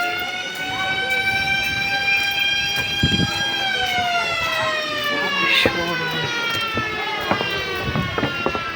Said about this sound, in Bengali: ট্রেনে যাওয়ার সময় এই ভিডিওটা শ্যুট করছিলাম